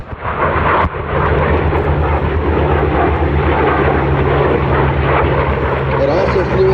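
An F4U Corsair propeller aircraft flying: a loud, continuous droning engine roar with a steady low hum, holding close and even throughout, with a brief thump near the start.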